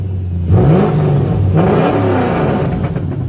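A powerful Pontiac G8 drag car engine revs up loudly, rising and surging twice with rough, throaty roars and mechanical clatter, close by.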